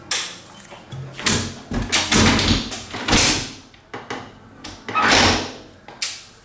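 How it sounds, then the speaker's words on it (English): Hotel room door at a Courtyard Marriott, tried with an access key card: a series of close knocks, thumps and rattles as the handle and door are worked repeatedly, with brief rustling between the hits. "And the door don't open."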